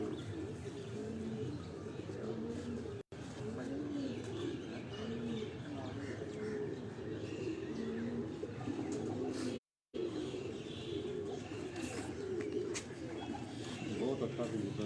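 Pigeons cooing in soft, repeated rolling phrases, several birds overlapping at moderate distance, with faint chirps and a low murmur of background voices around them.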